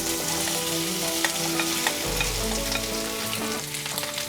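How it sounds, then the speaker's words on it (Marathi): Continuous loud sizzling of boiled potato pieces frying in hot oil tempering, with occasional stirring scrapes and no voices. "आता ह्याच्यात आपण उकडलेल्या बटाट्याच्या फोडी घालून घ्यायच्या आहेत"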